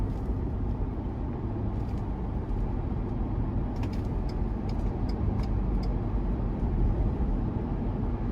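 Inside the cabin of a 2023 Ford Ranger Lariat Tremor 2.3T on mud-grip tires, a dense, steady low road roar and tire hum carries on through the whole stretch, with faint clicks above it and no talking.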